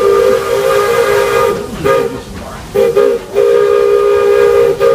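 Steam whistle of the Walt Disney World Railroad locomotive Roy O. Disney No. 4 blows at a station platform in three loud, close blasts: a long one, a short one, then another long one over a low hiss of steam.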